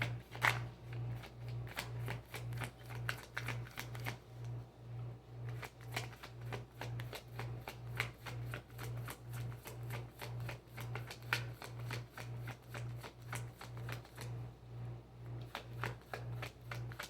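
A tarot card deck is shuffled close up in a quiet room, giving a rapid run of crisp riffling snaps and flutters in short bursts with brief pauses between them, steady and clear with a faint low hum beneath.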